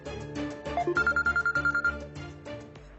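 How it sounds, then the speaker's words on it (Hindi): A telephone rings in a home kitchen, a loud, close electronic ring of rapid even pulses lasting about a second over a steady background hum, with no voices. "आपके दादू का फोन।"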